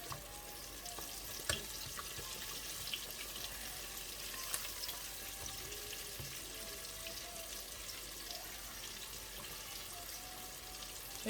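Chicken wings frying in a deep fryer, a steady broadband hiss and crackle with occasional sharper pops, continuous and moderately faint with no talking.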